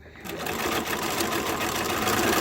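A sewing machine chain pieces fabric masks, starting after a brief pause and then running fast and steady with a dense rattling stitch, close and loud with no talk.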